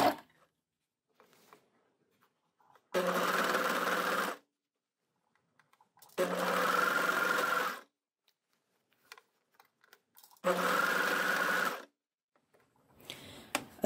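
An overlocker fitted with a cutting blade sews a sleeve seam on a top in three separate bursts of a few seconds each, a loud whirring run broken by quiet pauses with small handling noises.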